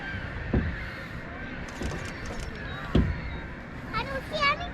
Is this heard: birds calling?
yes